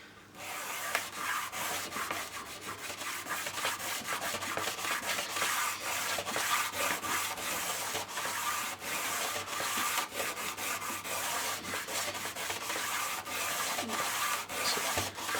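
A 60 grit cleaner is rubbed back and forth over a tarnished Scalextric slot car track, giving a continuous close scraping and sanding rasp with rhythmic strokes and no talking.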